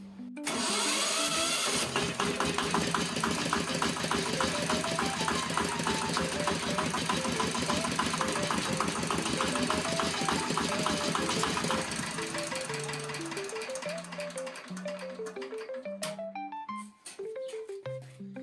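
A mini tractor engine starts and runs with a loud, steady knocking chug, close by, settling into a rougher idle after about twelve seconds, with the running motor continuing to the end.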